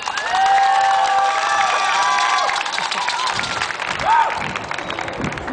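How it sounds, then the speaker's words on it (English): Outdoor crowd at an immigrants' rights march in Oakland breaking into applause with loud cheers and whistles, clapping and shouting blended together, swelling again briefly before easing off. "Everybody, if you can please give her a round of applause."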